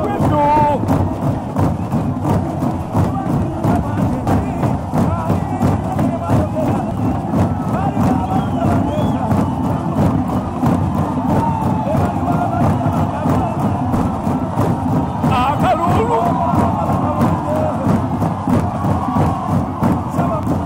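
Large jubilant crowd at the Kabaka of Buganda's 30th coronation anniversary celebration, a dense steady roar of voices and cheering, loud and continuous throughout with scattered thumps.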